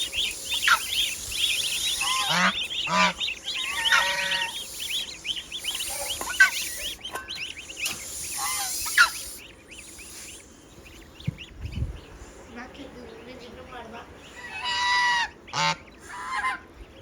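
Geese honking on a farm, repeated loud bursts of calls with other fowl and animal noises mixed in, close by; a few quiet stretches break the racket.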